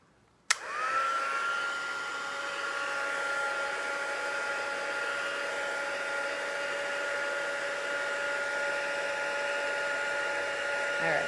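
A click, then a heat gun starts blowing with a steady whirring hum that stays close and constant to the end.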